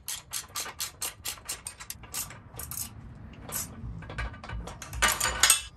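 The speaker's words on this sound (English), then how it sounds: "So I'm gonna use the ratcheting side on the nut and open end on the inside." A ratcheting box-end wrench turns a 13 mm nut on a Harbor Freight 20-ton press, giving a close, rapid run of clicking ratchet strokes that pause briefly and then resume in a denser burst.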